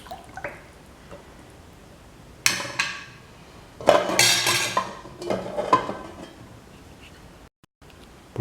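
Spoon stirring a mutton stew in coconut milk with turmeric in a cooking pot, giving scattered clinks and wet scraping bursts that grow louder and busier midway, with no talk.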